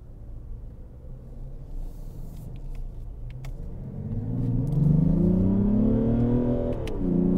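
A Mazda CX-60 prototype with an inline-six e-SKYACTIV D diesel revs under full throttle, its rumble swelling into a rising, smooth engine note that climbs for several seconds before easing slightly, heard alone and close.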